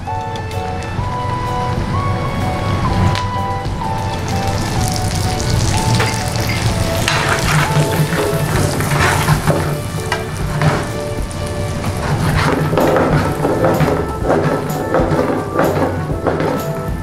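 Dried fruits and raisins sizzle and crackle steadily in a hot pan, with occasional stirring scrapes and faint background music throughout.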